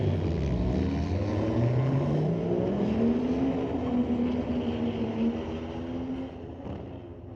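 A 1994 Toyota Supra and a 1991 Mercedes launch side by side at a street-legal drag night at a raceway, engines roaring loud and near, revs climbing through gear changes before fading slightly as the cars pull away.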